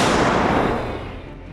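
A single heavy blast from a stationary NATO 155mm howitzer in combat, with a broad roaring body that rolls off and fades over about a second, loud and close.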